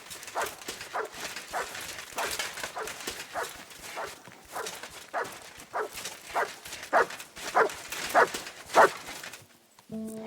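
A dog in the medieval game Kingdom Come: Deliverance 2 barks repeatedly in a steady series of sharp yaps, growing louder toward the end before stopping.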